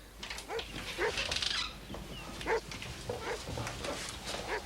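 A Briard, a large herding dog with a cut on its head after being hit by a car, whimpers and yips in short, faint, repeated cries over background noise.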